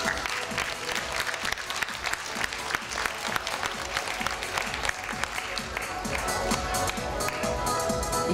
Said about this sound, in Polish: Ogromne brawa dla tych dziewczyn